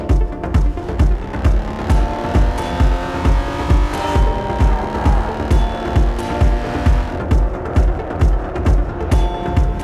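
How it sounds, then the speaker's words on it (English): An Aston Martin DB9 is driven, its engine note droning steadily from inside the car while a rhythmic thumping pulse repeats evenly throughout, with no talking. "So this, my good friends, is what the DB9 is like to drive."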